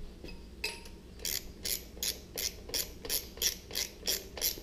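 A torque wrench ratchets in short, evenly spaced bursts of clicks while engine bolts are tightened on a VW short block, about ten crisp close-up clicks in a steady rhythm with no talk over them.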